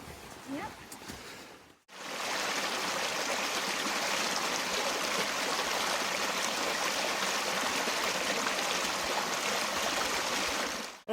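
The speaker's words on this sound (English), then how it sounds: "There's a little waterfall" A small waterfall at a river crossing on the Appalachian Trail, a loud, constant rushing roar that cuts in abruptly after a couple of seconds of quieter outdoor sound and holds steady.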